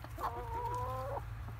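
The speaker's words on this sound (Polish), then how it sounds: "tak jakby ciszej wtedy kokały, a teraz już głośniej, tak jak kury" Backyard hens in a home coop give one close, drawn-out cluck that rises and holds briefly before breaking off, with a quieter cluck starting at the end and no other sounds over it.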